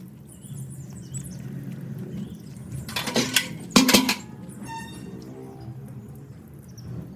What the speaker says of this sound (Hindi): रसोई में सिंक में इतने सारे बर्तन पड़े वो साफ़ करती हूँ